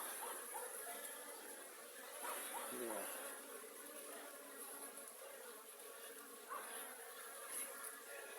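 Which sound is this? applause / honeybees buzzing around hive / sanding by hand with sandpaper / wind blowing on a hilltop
honeybees buzzing around hive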